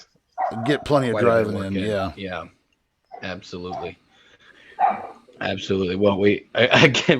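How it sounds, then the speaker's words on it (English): Dogs yap intermittently in the background while people hold a conversation, their sharp barks mixing with and breaking through the talk. "we apologize for the background noise. There's some dogs yapping."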